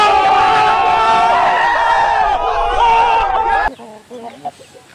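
Large gamefowl chickens at a game farm give loud, close, strained crowing and clucking calls for about four seconds, and then the sound drops to quieter scattered noises.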